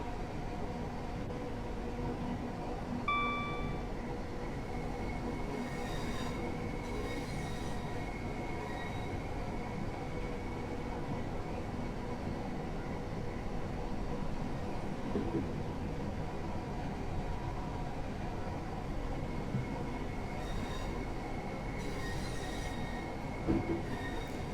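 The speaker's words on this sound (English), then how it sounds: "So I'm now accelerating up towards 30, and then I'm going to shut off the power again just to allow the train to coast towards Rochester Station." A Train Sim World 2 passenger train on the North Kent Line between Gravesend and Rainham rumbles steadily as it accelerates and then coasts toward Rochester, with a continuous low drone, faint rail squeals and brief rhythmic clicks from the wheels.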